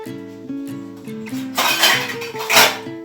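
Rice being served with metal utensils against dishes, making a run of clinks and scrapes of spoon on plate and pot. A sustained tonal ringing plays under it throughout.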